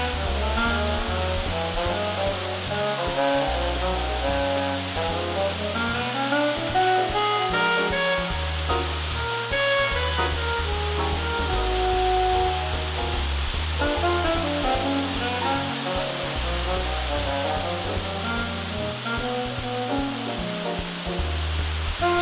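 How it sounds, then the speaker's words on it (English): Cathedral Falls in West Virginia roars as a steady, dense rush of falling water, constant and full throughout with no voices. "Spend a few moments and enjoy Cathedral Falls in West Virginia"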